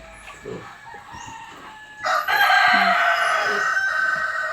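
Chickens on a farm, a hen with her growing chicks, cluck and squawk close by; quiet at first, then a loud, sustained burst of calling from the flock.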